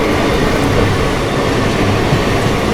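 The Howrah Rajdhani express passes slowly at a crossing, giving a loud steady rumble and roar of rolling carriages that fills the whole stretch.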